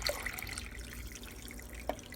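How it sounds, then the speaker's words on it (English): Water steadily streams into a pot being filled for homemade chicken broth, a soft continuous splashing rush with a brief brighter plink near the end, close and fairly quiet. "add enough water to pretty much fill it up to the top"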